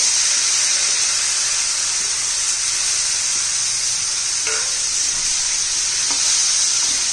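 Bottle gourd and dal with turmeric sauté in a hot pan, giving a steady, loud sizzling hiss that runs without a break for the whole stretch.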